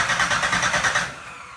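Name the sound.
Pontiac 400 V8 engine starting for the first time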